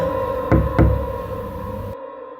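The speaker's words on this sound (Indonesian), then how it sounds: "ketukannya pindah jadi di pintu" Two heavy knocks on a door land close together near the start, loud and close, over a steady humming background that cuts out abruptly at the end; used as a horror sound effect.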